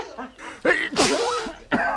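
A single sharp sneeze bursts out nearby, followed by a brief breathy exhale.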